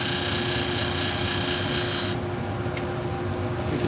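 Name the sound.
sharpening salon shears, convexing the edge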